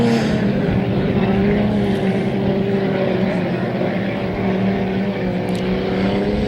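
A vintage race boat engine runs hard down the backstretch at a Pateros vintage heat, a loud steady throaty drone with a sustained buzzing tone that holds throughout, no break in the roar.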